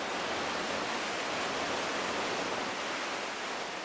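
A waterfall plunging 120 feet beneath a bridge built over its lip, heard as a steady, dense broadband roar that holds even and unbroken throughout with no voices.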